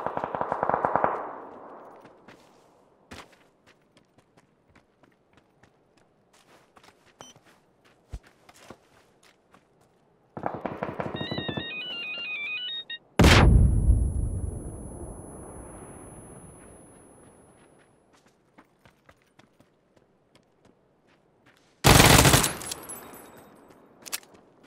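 Uzi submachine gun fire in PUBG arrives as a few sharp, loud bursts separated by quieter stretches of footsteps and faint movement, with echoing reports trailing after each burst.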